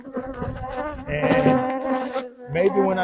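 Honeybees buzzing around beehives, a close, dense droning hum that swells and fades as insects fly near, with a brief quieter gap before the buzzing returns.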